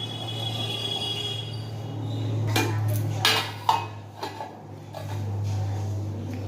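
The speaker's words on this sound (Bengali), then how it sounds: "এই জলটা হাঁড়ির উপর দিয়ে দিচ্ছি যাতে জলটাও গরম হয়ে যাবে" A bowl of water set on top of a rice pot on a gas stove: a few clinks and knocks of metal dishes against a steady low hum of the flame, fairly quiet and close.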